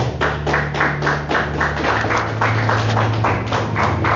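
A church congregation claps in a steady, quick rhythm, the many hands blending into a continuous patter over a low sustained musical hum.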